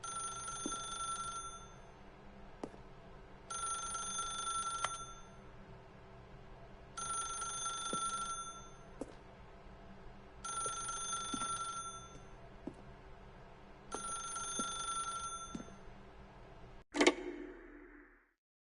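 A telephone rings in five regular bursts with short pauses between, fairly loud and close, with no talk, ending in a sharp click as if the handset is picked up.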